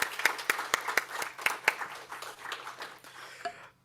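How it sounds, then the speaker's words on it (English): Scattered hand claps from a small audience at an academic social work colloquium on climate and environmental justice, a dozen or so distinct claps over about three seconds before fading out, with a faint hum beneath. "let's do one more round of applause"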